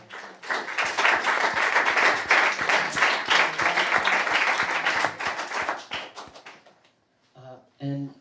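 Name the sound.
audience applause for a featured author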